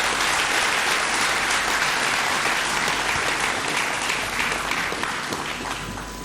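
Sustained, dense applause from a large audience for professor Michel Bissa, steady and fairly close, with the crowd noise tapering slightly toward the end.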